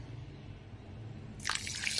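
Water is poured onto raw rice and toor dal to wash them for upma, a brief splashing, trickling burst near the end after a quiet stretch, close by and without talk.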